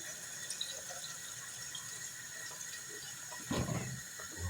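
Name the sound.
hot water being poured into pot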